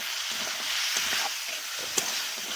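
Parboiled masoor dal (red lentils) frying and being stirred in a hot pan, a steady close sizzle with soft scraping stir strokes and one brief clack near the end.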